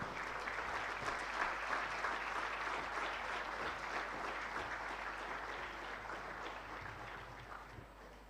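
Crowd applause fills an official opening ceremony hall, a dense, even roar of many hands sustained for several seconds and tapering slightly toward the end.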